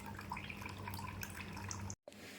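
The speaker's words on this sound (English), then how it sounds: "Then the water will come out from the water outlet hole." Water flows from the outlet hole of a CO2 laser Q-switch unit, a steady trickling, dripping stream that cuts off abruptly near the end before faint flow resumes.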